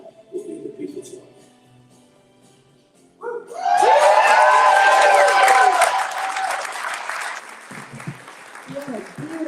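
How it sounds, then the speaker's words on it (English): A crowd at a campaign event for a state representative bursts into loud applause and cheering after a quieter stretch, with clapping and shouts swelling, holding strong for several seconds, then tapering as voices come back. "Let's give Pam a round of applause again."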